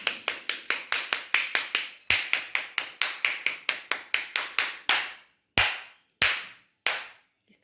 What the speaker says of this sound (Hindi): तो ताली जब भी बजाएं,